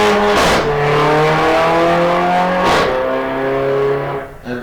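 A turbocharged Mercedes race car at a hillclimb-style sprint event roars close by, its engine note climbing and dropping through gear changes with two sharp bursts of noise as it powers past.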